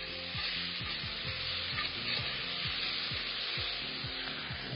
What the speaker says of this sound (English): Put some red peppers into the pan.